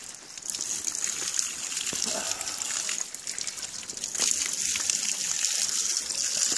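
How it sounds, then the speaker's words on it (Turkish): Water runs steadily from a spout, a continuous trickling and splashing flow that holds at an even, fairly loud level throughout, with no speech heard. "Şeyden su akıyor abi."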